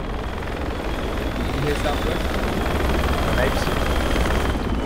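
A helicopter in the military game Project Reality, with German and Chinese forces fighting, thrums loudly and continuously close by, its rotor chop droning under a brief spoken question.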